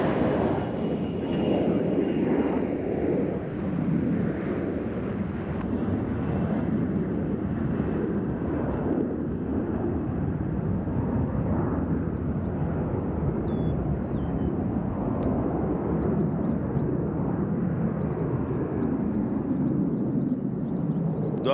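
An airplane departing Nashville International Airport on a flight to JFK, heard as a loud, steady broadband roar that holds for the full stretch with no voices.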